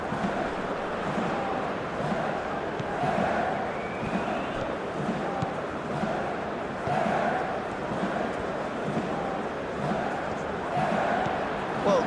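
A stadium crowd in the football video game FC 26 keeps up a restless, impatient roar during a Bundesliga match between RB Leipzig and Union Berlin, a continuous dense murmur with swelling surges.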